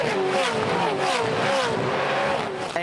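Supercars race cars scream past on the Adelaide street circuit, engines loud and revving with pitch sweeps as they sprint through a right-hander, with commentary talking over them.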